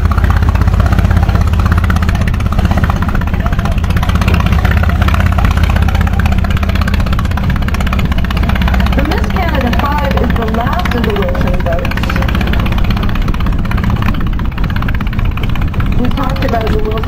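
A vintage motorboat engine drones loudly throughout as the boat cruises around a bay, a low rumbling hum that barely changes, with a voice speaking over it partway through.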